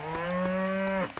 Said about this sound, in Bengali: আর গরুটা দেখি দেখি চিল্লাচ্ছে